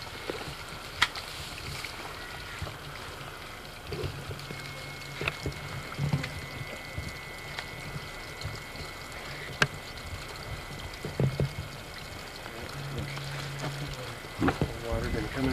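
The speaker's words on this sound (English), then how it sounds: "Water's been coming out of here for a lot of years." Water flows and splashes steadily from a natural spring near Promise, Oregon, while people talk nearby, with a few knocks and clatters.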